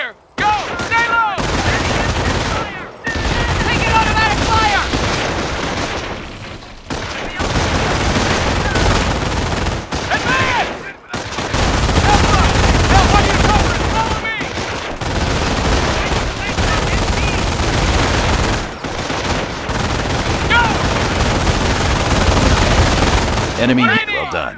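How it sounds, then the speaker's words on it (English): Sustained machine gun bursts fill the scene in Company of Heroes infantry combat training, loud and continuous with brief gaps, mixed with battlefield noise and shouted voices. "Taking MG fire!"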